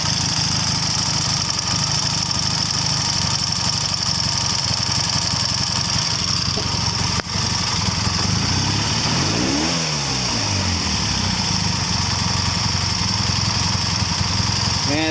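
A 1979 Triumph Bonneville T140 D motorcycle engine idles steadily at fairly high revs, a loud, continuous close-up drone that holds with slight wavering throughout.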